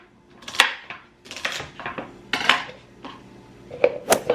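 A kitchen knife cuts celery sticks into pieces while green juice is being made, giving a string of irregular, fairly close cutting knocks with short pauses between them.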